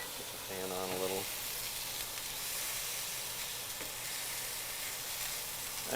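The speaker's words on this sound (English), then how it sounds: "I'm going to go ahead and press these down a little bit just to get a good sear." Swordfish steaks sear in a hot pan with a continuous soft, even sizzle and hiss, fairly quiet and steady throughout, with a short voice near the start.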